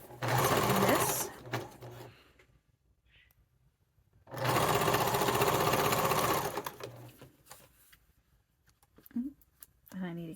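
A sewing machine stitches the short ends of a vinyl satchel gusset in two loud, steady bursts of running, separated by a quiet pause with a few handling clicks and brief soft speech near the end.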